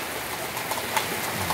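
Steady rain falling outdoors after months of drought in Loma de Cabrera, a continuous patter on surfaces with scattered louder drops.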